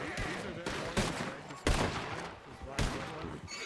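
Gunfire in the Western role-play game WildRP on Red Dead: several loud, sharp shots at uneven intervals over a dense backdrop of game noise.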